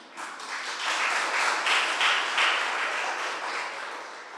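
Congregation applauding during a church service in Vasai, a steady broadband wash of many hands clapping together for several seconds, moderately loud with no speech over it.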